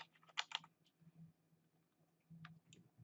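Typing on a computer keyboard in a quiet room, a few quick close clusters of key clicks with short pauses between them.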